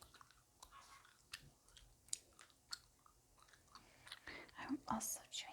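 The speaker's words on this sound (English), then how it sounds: "I'm also chewing some gum." Soft, close wet chewing of gum with small smacks and clicks, quiet and intimate, with faint breathy sounds in the background.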